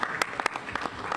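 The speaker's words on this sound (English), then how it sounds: "Can we get another round of applause?" A round of applause for Senator Mikulski at a Maryland officials' press event, a short burst of scattered, distinct claps from a modest crowd.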